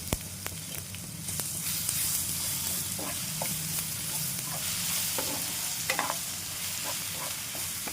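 Oil sizzles steadily in a pan as a tempering of spices fries with chilli, garlic and ginger paste for chole curry, with scraping stir strokes and small pops cutting through the hiss.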